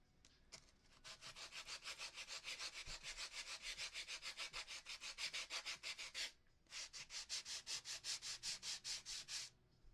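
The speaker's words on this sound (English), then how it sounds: "so back to sanding." Rhythmic back-and-forth strokes of hand sanding on wood, fast and even, pausing briefly before resuming at the same pace.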